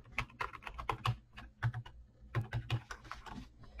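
Computer keyboard keys being pressed to enter a password, a quick run of close, crisp clicks with short pauses, with no voices.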